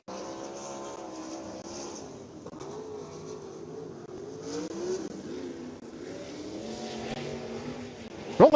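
A sprint car engine idles and rolls out at Eldora Speedway, a steady, buzzing drone with shifting pitch throughout and a sharp burst at the very end.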